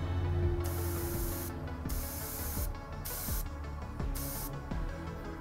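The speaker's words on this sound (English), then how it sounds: "We're going to go ahead and spray his face." An airbrush spraying paint onto a miniature's face, with several bursts of bright close hiss, separated by short pauses, over a quiet mechanical background.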